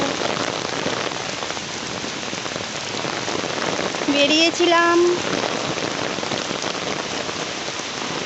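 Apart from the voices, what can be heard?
rain falling on an umbrella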